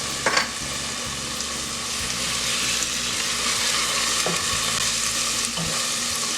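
Fideo noodles frying with cumin and garlic powder, a loud, constant sizzle with occasional scraping stir strokes and a few sharp clicks of the utensil against the pan.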